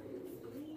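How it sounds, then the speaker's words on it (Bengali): Pakistani pigeons kept in cages at a seller's place coo in a steady, low, murmuring drone, close by, over one short stretch with no pauses. "ভিতরে কিছু কবুতর আছে"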